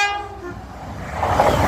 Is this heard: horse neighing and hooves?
no